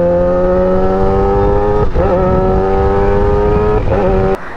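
Superbike engines, a Kawasaki Ninja ZX10R and a Hayabusa, droning loud and close while riding, a steady high engine tone with two brief gear-shift dips and a sharp click near the end.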